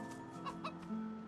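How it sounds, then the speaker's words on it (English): A chicken clucking in the video game Divinity: Original Sin 2, several short quiet clucks close by with a faint steady hum underneath. "Very busy chicken right there."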